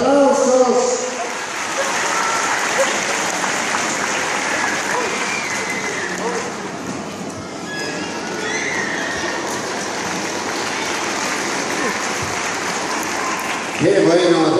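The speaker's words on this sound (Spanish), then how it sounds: "¡Fuerte los aplausos!" A church congregation at a Bolivian revival service claps steadily for more than ten seconds, a dense sustained wash of hands, while a voice calls out briefly at the start and again at the end.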